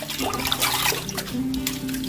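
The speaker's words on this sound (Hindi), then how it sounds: "उसके बाद इसके ऊपर स्टॉपर लगा के इसको पानी से फिल कर लेंगे और बारी बारी पालक, बाथू और साग को हम धो लेंगे।" Water runs from a tap into a stoppered kitchen sink to wash spinach, bathua and mustard greens, a steady rushing splash with some clatter throughout.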